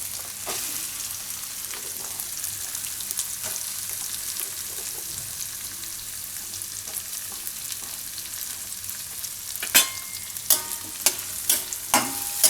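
Onions cook in a pan with ginger, chillies and garlic for bhurji fried rice, a soft, even sizzle. Near the end a run of sharp spatula clicks and scrapes against the pan breaks through.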